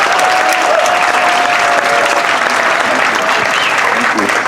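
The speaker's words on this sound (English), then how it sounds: "Let's give another round of applause to our Attorney General, Mr. Rob Bonta" A large audience at a Philippine community anniversary celebration applauds loudly and steadily, a dense, sustained wash of clapping with some crowd noise and a faint tone running underneath.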